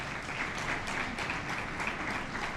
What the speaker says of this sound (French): qui mérite des applaudissements